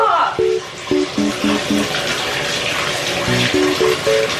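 Water runs steadily into a bathtub from the tap, a continuous broadband rush throughout, with a voice speaking over it in short bursts.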